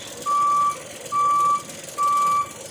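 A truck's reversing alarm gives three evenly spaced, steady electronic beeps over a low background hum.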